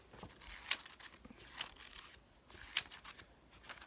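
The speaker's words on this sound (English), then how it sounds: "We'll crumple the page." Paper journal page being crumpled by hand, a series of faint, close crinkles with a few sharper crackles spaced irregularly.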